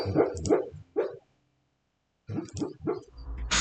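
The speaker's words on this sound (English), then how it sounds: "What is that sound? Oh, The dog. that is one of the dogs." A dog barks in two short bursts of a few yaps each, separated by a stretch of silence, during a tabletop fantasy role-playing game session.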